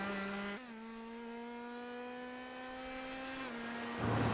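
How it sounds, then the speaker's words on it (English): An open-wheel race car in a sim racing game drifts over a hill at New Jersey Motorsports Park, its engine holding a steady high harmonic drone that drops in pitch once, then again near the end as tires scrub. "Little drift coming over the hill there."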